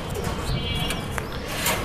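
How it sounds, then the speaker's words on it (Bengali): A young pigeon, just released, gives a short, close coo over a steady background of outdoor noise. "তো কবুতরটা ছেড়ে দিলাম"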